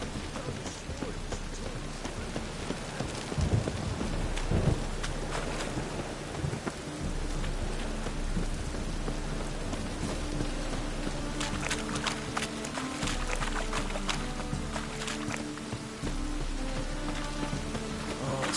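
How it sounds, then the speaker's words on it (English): A storm in a video game, set in a city, with steady rain hissing on surfaces and low rolling thunder rumbling beneath it, loud and continuous with a few sharper bursts. "The storm, damn it."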